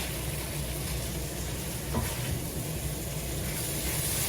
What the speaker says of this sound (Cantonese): 我哋再炒炒佢先。